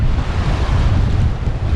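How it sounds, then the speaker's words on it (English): A strong squall hits a sailboat: wind roars and buffets the microphone while waves surge and slosh nearby, a loud, continuous rush with no voices. "all of a sudden we're in a bit of a squall."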